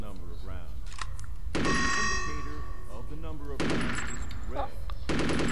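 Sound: gunfire from a weapon in a video game

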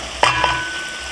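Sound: onion and minced garlic frying in butter

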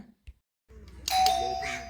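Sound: electric calling bell ringing

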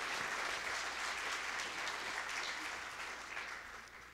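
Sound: audience applause

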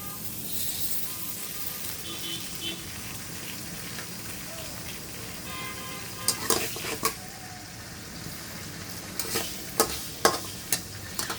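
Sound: potatoes frying in mustard oil

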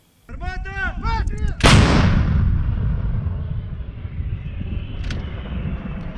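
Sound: howitzer artillery fire

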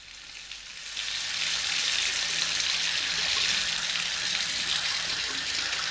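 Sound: water running from a tap

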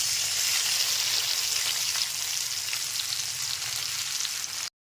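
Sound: spice paste sizzling in oil for chana dal

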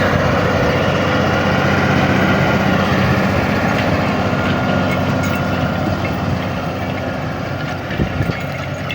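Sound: tractor pulling a harrow

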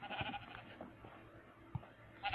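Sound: sheep bleating in Minecraft video game

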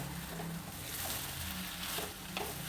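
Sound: frying mango gojju in tempering

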